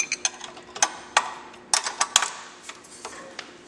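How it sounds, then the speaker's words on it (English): Bolts on a motorcycle rear master cylinder being tightened by hand: scattered sharp metallic clicks and ratcheting ticks, close and irregular, with short pauses between bursts. "So now you just tighten these bolts up."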